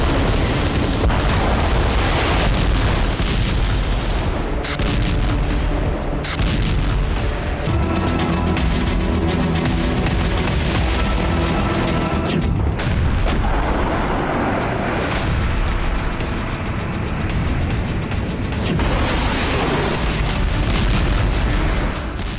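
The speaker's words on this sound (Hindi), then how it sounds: "हूती ने दावा किया कि इजराइल की तरफ जाने वाले इन जहाजों को हूती ने मिसाइल हमले में तहस नहस कर दिया।" Missile strikes hitting ships, heard as continuous loud, rumbling booms and blasts with dense low roar that runs on throughout, harsh and saturated, with no speech.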